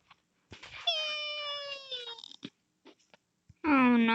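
A cat meows in a Roblox obby game: one long, drawn-out wailing meow, then a short pause with small clicks, and another loud meow starting at the end, close and clear.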